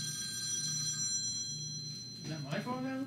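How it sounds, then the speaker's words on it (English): A telephone ringing quietly in a podcast studio, a thin repeating tone sitting under low talk before a voice breaks in. "Is that my phone now?"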